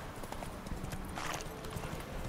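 A horse's hooves clip-clop at a steady trot in The Witcher 3 video game, mixed with a busy ambient game soundscape.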